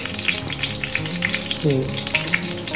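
Whole cumin seeds fry in hot oil, making a continuous crackling sizzle with bright pops, fairly close and steady, with a brief faint tonal sound partway through.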